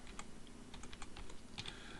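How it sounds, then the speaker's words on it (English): Quick bursts of typing on a computer keyboard, a short run of light clicking keystrokes close to the microphone, irregular in rhythm, with no talking. "I'm just going to type in"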